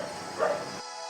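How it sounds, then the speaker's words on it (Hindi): A dog barks somewhere in the background, a single short, muffled bark rising briefly out of low room noise before the sound drops away. "आपको कुत्ते भौंकने की आवाज़ आ रही होगी,"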